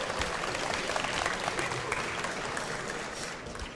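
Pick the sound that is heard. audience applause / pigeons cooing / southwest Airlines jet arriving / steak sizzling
audience applause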